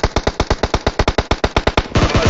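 An automatic weapon fires a rapid, evenly spaced burst of about fifteen loud, close shots in PUBG Mobile, then blurs into a denser, continuous stream of fire at the end.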